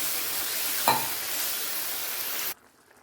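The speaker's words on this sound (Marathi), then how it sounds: "पहा, आपल्या करीला व्यवस्थित अशी उकळी आलेली आहे आणि थोडं तेलही सुटलेलं आहे।" Tomato egg curry with oil separating and water added bubbles and sizzles steadily in a pan, one brief louder clink or stir near the start before the sound cuts off abruptly toward silence.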